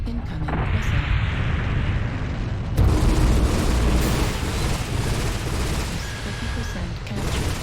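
Missiles slam and burst around a mech in MechWarrior Online, a dense, continuous barrage of heavy booms with a sharp louder impact midway, set against a droning battle backdrop and an automated cockpit voice.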